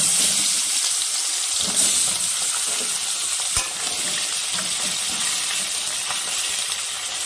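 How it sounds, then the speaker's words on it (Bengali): Bacha fish pieces frying in hot oil in a pan, for a recipe with potato and brinjal: a steady, dense crackling sizzle running the whole time, close and fairly loud, with a few faint clinks and no talking. "এইভাবে আমি বাকি মাছগুলো ভেজে নিব"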